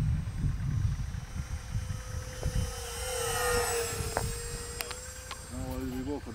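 An XFLY Eagle Twin 40mm electric ducted fan RC jet wing passing overhead: a steady whine that rises and sweeps down in pitch as it flies by, moderately distant, with people talking outdoors around it.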